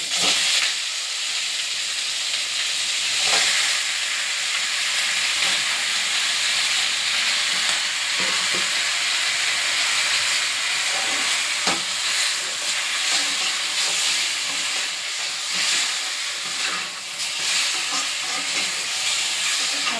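Country chicken and curry leaves fry in a pan for bereyani, giving a loud, continuous sizzle and hiss with occasional stirring clicks, steady throughout and without talk.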